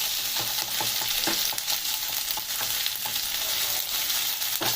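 Spinach frying in a pan for aloo palak, a continuous close sizzle with occasional stirring scrapes and crackles, no voices.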